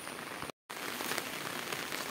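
Steady rain falls with a dense, even hiss, briefly cutting out for a moment before resuming.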